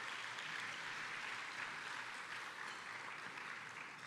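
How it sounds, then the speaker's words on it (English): A dinner crowd at a school district awards event claps for a board trustee, producing a dense, even wash of applause that holds steady throughout at a moderate distance. "Let's give him a little round of applause."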